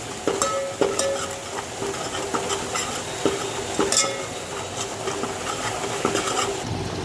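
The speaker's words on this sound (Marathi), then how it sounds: "अशा प्रकारे आपल्याला ते लालसर भाजून घ्यायचं आहे" Vegetables roast in a little oil in a pan, with repeated spatula scrapes and knocks against the metal in an uneven rhythm over a low sizzle, close and moderately loud, with no talk.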